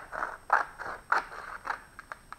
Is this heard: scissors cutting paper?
yes